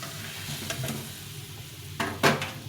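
Potatoes for aloo dum tipped into a hot pan, giving a steady sizzle with a couple of louder stirring scrapes near the end and no talk.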